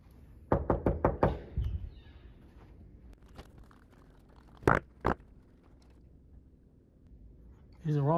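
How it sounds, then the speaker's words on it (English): A fist knocks on a door in a public apartment hallway: a quick run of five loud raps, then two separate knocks a few seconds later. People talk nearby between the knocks. "No, I'm knocking on a door."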